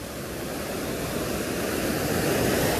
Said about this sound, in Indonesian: buset dah ombaknya, mantap